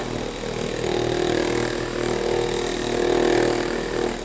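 Woodworking bandsaw running steadily to cut a wooden turkey-leg napkin holder, a continuous close motor hum and blade whir with no voices.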